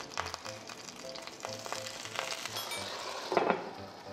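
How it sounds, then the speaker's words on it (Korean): Gyoza fry in hot oil in a pan with a soft, crackling sizzle throughout, with brief spattering pops and a louder burst of hissing near the end. "자 여기서 이제 기름 튀기 시작해."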